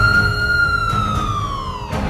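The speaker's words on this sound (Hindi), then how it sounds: "पूरे गांव में जोरदार सायरन बजता है" A loud siren wails across a village in India at seven in the evening, a steady, slowly falling tone held alone for the whole stretch.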